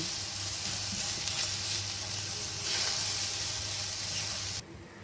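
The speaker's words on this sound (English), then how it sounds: "So the masala is cooking. The gas is kept to its slow setting." Masala with chili powder sizzles steadily in a pan over a low gas flame, a close, even hiss that runs unbroken and then drops off sharply at the end.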